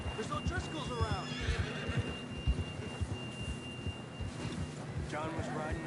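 A horse in Red Dead Redemption 2 whinnies in a short rising call amid hoofbeats and outdoor ambience, while someone talks over much of the scene.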